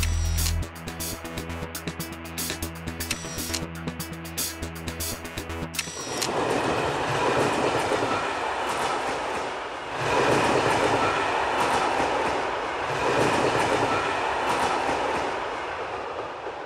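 A train rumbles past steadily along the coastline near Taman, Russia, with a broad continuous roar and faint rhythmic clatter from the rails, preceded by a brief burst of music.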